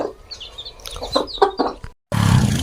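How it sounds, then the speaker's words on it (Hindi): A young chick chirps close by in a string of high, quick peeps with some hen-like clucking. The clip ends with a short burst of broadband noise. "कितने खूबसूरत है चूजा"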